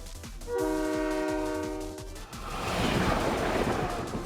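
A train in the video game Blue Archive sounds a loud, sustained horn over rhythmic wheel clacks, then gives way to a rushing roar of the moving train.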